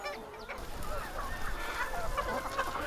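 Chickens on a farm that raises edible insects as feed, clucking and honking calls from several birds at close range over a busy background.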